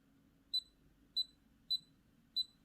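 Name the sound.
HeartCare pulse oximeter beep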